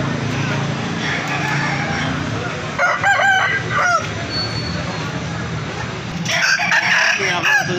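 Aseel roosters crow at a busy rooster market in Rawalpindi, Pakistan, with several crows rising over constant crowd chatter and people talking nearby.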